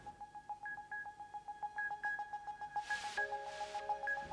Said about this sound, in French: Le téléphone relié à la fibre optique